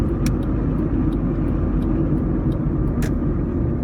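Interior road noise from a lowered Honda Civic on the move: a steady, loud low-frequency rumble of tyres and engine with a few faint clicks and ticks on top, and no talking.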